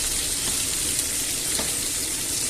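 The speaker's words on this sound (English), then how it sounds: "So these sausages, let's give them a swirl and we'll turn them over" Sausages fry in a pan, giving a loud, continuous close-up sizzle and crackle with light stirring movement as they are turned; no voices are heard.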